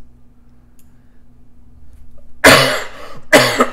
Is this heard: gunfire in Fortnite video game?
no